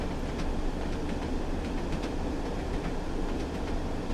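Train in Train Sim World 6 runs at top speed, giving a steady, continuous rumble with faint rhythmic clicks of wheels over rail joints throughout.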